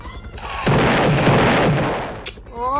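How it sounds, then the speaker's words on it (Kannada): A bomb blast in the Roblox game Granny, a sudden loud roar that holds for over a second and then tails off, followed by a short crack and a faint rising tone. "bomb blast"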